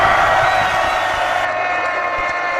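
An army besieging a dragon pond roars a battle cry, a dense sustained crowd shout that swells continuously from start to finish without pause.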